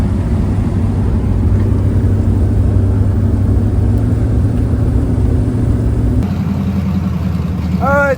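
A car engine idles steadily with a constant low rumble and hum, close and loud, with a slight shift in tone near the end.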